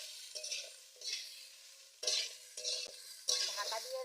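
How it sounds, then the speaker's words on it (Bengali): Cut potatoes fry in hot oil in a pan while a spoon stirs them in a few bursts, each scrape bringing a louder sizzle that settles back between strokes, heard up close with no talk. "কেটে রাখা আলুগুলো ওর উপর দিয়ে দিচ্ছি। ভেজে নেব আলুটা।"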